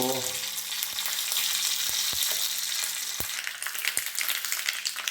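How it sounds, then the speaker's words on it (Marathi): Mustard seeds, a red chilli and curry leaves hitting hot oil in a loud, dense crackling sizzle, with a few sharp pops and clicks throughout, close up and without speech. "थोडा तेल गरम करतो त्याच्यात राई टाकली एक लाल मिरची आणि कढीपत्तो"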